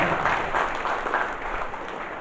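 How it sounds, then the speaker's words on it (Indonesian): Audience applause at a cultural hall gathering in Kutai Barat, an even wash of many hands clapping at moderate distance that holds steadily. "Tepuk tangan untuk Kutai Barat"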